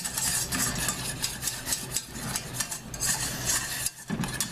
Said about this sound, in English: We're going to whisk it.